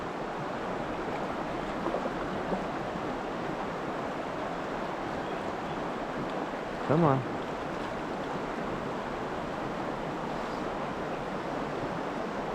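Fast, high water of a trout stream rushes steadily throughout, a loud broadband wash with a brief splash near the middle as an angler working a 2WT fly rod speaks briefly over it.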